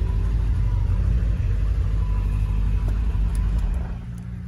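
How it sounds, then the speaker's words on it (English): A Porsche 928 GT with manual gearbox idles with a deep, steady V8 burble, loud and close, a low rumble that eases slightly at the end with no one talking. "you can hear it's a nice burble"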